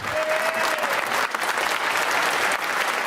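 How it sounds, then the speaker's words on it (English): MPs in the House of Commons applaud together in a sustained burst of clapping for the Ukrainian ambassador, dense and even throughout, with no speech over it. "Rare applause from MPs as the House of Commons rose as one for the Ukrainian ambassador"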